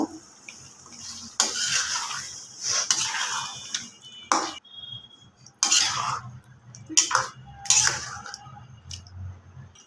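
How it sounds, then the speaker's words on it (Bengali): A spoon works chicken and yogurt around in a cooking pot, scraping and clattering in short irregular bursts with quiet gaps between, close and clear, no one talking. "দইটা দিয়ে দিব এখন ভালো করে নেড়ে দিব"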